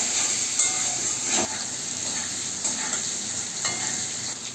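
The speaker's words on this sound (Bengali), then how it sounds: "পরিমাণ মতো লবণ আর পরিমাণ মতন আমি হলুদ দিয়ে আলুটাকে ভাজবো একসঙ্গে।" Potatoes frying in a pan with salt and turmeric give a steady, close sizzle with faint stirring scrapes throughout, no voices.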